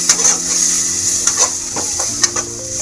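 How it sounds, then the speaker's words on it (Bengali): Ground spices and chopped tomato frying in a pan for a red lentil, egg and potato dish, a steady close sizzle with a few scrapes and clinks of a stirring spoon. "এগুলো সব আমি একটু ভালোভাবে ভেজে নেব।"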